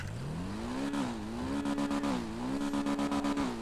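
A Manchez Scout motorcycle engine in GTA Online hums and revs up, its pitch rising and dipping, with a rapid stutter as the throttle is worked.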